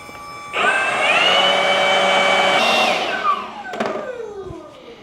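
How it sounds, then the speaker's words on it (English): A blower pushes air down the full bypass of a BVM F-100 "Hun" turbine jet model to cool it, a loud steady whine starting abruptly, holding level, then dropping in pitch as it winds down. "Reason I use a blower in this scenario is because with a full bypass, you really want to have air flowing down the bypass"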